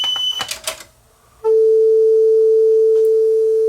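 A JVC TD-W777 cassette deck, in for repair, plays back a test recording: a few clicks and rattles, then a brief lull, then a loud, steady, unbroken tone that holds to the end.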